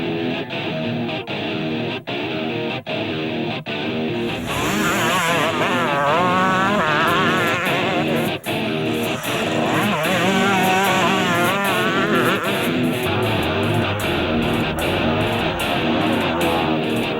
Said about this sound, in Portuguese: Testando a moto constantemente.